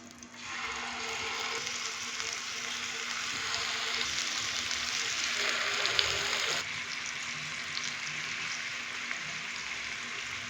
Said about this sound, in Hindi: मैंने बड़ी एहतियात के साथ पैन के अंदर चिकन के पीस डाल दिए हैं।